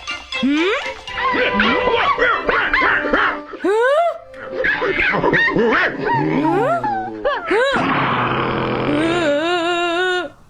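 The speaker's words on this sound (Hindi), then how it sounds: "अच्छा डॉगी, मैं कुछ नहीं करूँगा।" A cartoon dog barks and yips repeatedly in quick, loud bursts with whimpering squeals mixed in, close and bright, alternating with animated character voices talking.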